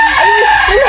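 A chicken crows loudly and close by, one drawn-out call with rising and falling pitch that fills the short moment, with no speech over it.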